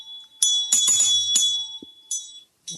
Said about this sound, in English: That was my little bell.